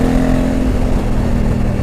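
A 2020 Honda Africa Twin 1100 adventure motorcycle accelerates with a loud, close, steady engine drone that climbs slightly in pitch over a couple of seconds.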